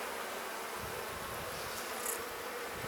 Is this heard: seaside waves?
no